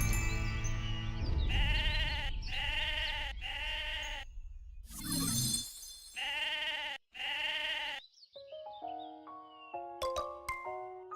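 Sheep in the online game Mabinogi bleat in a run of six loud, drawn-out calls that come one after another with short gaps, followed by bright chiming game sound effects.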